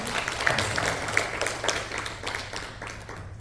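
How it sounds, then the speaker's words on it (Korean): A church congregation claps together in thanks for the kitchen and meal volunteers, a sustained patter of many hands at moderate distance with no voices over it. "함께 박수 한번 해드리겠습니다."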